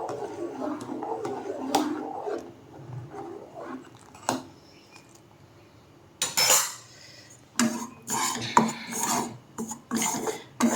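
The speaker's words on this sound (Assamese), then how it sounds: "এইফালে মই পায়সখিনিও লৰাই থাকিম" Payasam is stirred in a pot on a home stove, with intermittent scraping and clinking of a spoon against the metal in short bursts separated by quiet gaps.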